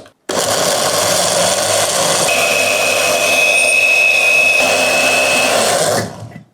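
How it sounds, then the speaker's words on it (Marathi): A kitchen mixer grinder whirs steadily for about six seconds, purée-blending cooked tomatoes and onion for soup, starting abruptly and cutting off at the end, loud and close with a constant motor drone and no talking. "आता हे शिजलेलं टोमॅटो यामध्ये घालायचं कांदा आणि टोमॅटो दोन्ही आणि मिक्सरमध्ये हे छान बारीक वाटून घ्यायचं"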